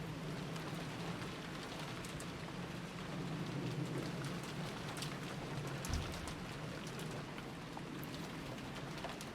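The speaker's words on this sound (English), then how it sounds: "The only voice that called after them was the sound of the rain." Rainfall effect from the Umineko visual novel, a dense, steady patter of drops on surfaces with a soft low rumble underneath, continuous and fairly quiet, with no voices.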